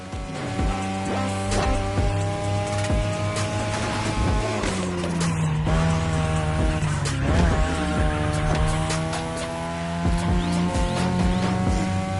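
A race car in The Crew Motorfest roars at high revs, with engine pitch rising and falling through gear changes and tires squealing and skidding through corners, loud and continuous throughout.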